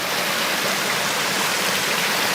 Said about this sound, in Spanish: aquí tenemos una vertiente que viene bajando, por supuesto, del mismo bosque nativo